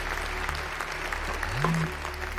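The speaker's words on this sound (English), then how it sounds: "Ladies and gentlemen, give him a round of applause." An animated cartoon audience breaks into an even wash of applause from a crowd at a stage magic act, steady and moderately loud throughout.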